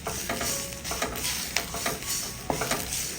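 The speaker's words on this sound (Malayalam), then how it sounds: "ഈ കറിവേപ്പിലയെ നമുക്കൊന്ന് വറുത്തിട്ടെടുക്കാം." Curry leaves and mustard seeds frying together in a hot pan, heard as a close, continuous sizzle with sharp crackles and pops and some scraping stirring, with no talk.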